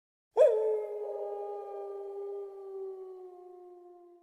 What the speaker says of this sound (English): Once they heard a wolf in the distance.